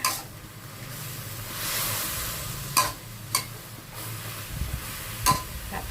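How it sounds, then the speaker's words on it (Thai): Chinese cabbage is stir-fried in a pan, a soft hiss with a few sharp spatula scrapes and knocks against the pan, no talking. "คลุกเคล้าให้เข้ากันผัดไปเลยค่ะ ผัดให้ผักเราสุกแล้วนะคะ"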